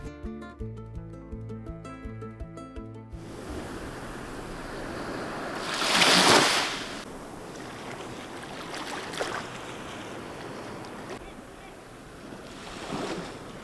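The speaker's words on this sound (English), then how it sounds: "the soothing sound of the ocean" Ocean surf rolling in at a Baja camp, a steady wash of waves with a louder breaking swell midway and softer surges after, following a brief stretch of music at the start.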